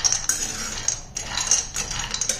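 Almonds frying in a kadhai over a low flame are stirred, producing close, fairly loud metallic clinks and scrapes in quick, uneven bursts.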